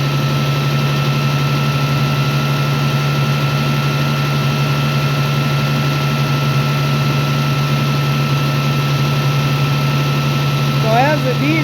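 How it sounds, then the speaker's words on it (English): A Farmall tractor engine idles steadily nearby with its generator under load, a constant low droning hum with a faint whine rising briefly near the end. "So you're hearing the generator kick in and wind the motor down."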